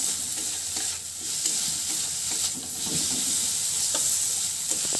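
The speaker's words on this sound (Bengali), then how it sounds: "মটরটা দিয়েও একটু নেড়ে চেড়ে নেবো কয়েক সেকেন্ডের মতো।" Boiled peas stirred in a hot pan for capsicum fritters, a steady close sizzle with scraping spatula strokes throughout, no voices.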